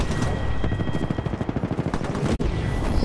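Gunfire in an online team shooter game, a loud rapid series of blasts with a short gap near the end before the firing resumes.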